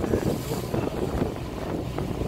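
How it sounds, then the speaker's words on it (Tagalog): Strong wind buffets loudly and continuously in Cambodia, roaring with gusty bursts throughout. "Lakas na hangin."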